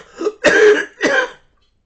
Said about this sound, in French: Ça m'en fait tousser.